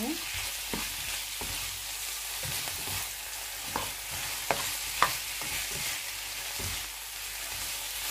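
Sambal with shrimp, for a spicy butter garlic shrimp dish with sesame seeds, is stirred in a frying pan, giving a constant hiss of sizzling broken by scattered utensil scrapes and a few sharper clacks against the pan.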